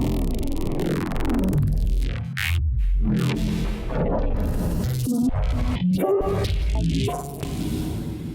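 Abstract neuro bass synth sound, dense and growling with shifting, morphing tones and sweeping filter movement, continuous and loud throughout with choppy rhythmic cuts.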